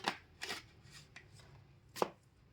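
Tarot cards being handled and drawn from a deck, a few quiet crisp slaps and riffling flicks spaced apart, faint and close.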